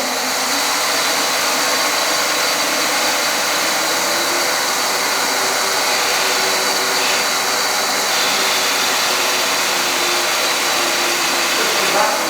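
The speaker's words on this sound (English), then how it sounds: "Now we'll vacuumise the claw by opening this valve here, which lets the vacuum into the bucket." A portable milking machine's vacuum pump drones on without a break, a loud, even motor hum with airy hiss and no pauses.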